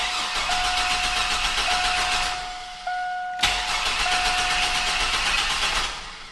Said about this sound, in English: it's just going to crank and crank all day, and it's never going to start